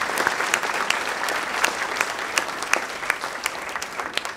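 At a veterans and cadets dinner, an audience gives young cadets a round of applause: close, crisp individual claps over a dense crowd ovation that stays lively throughout.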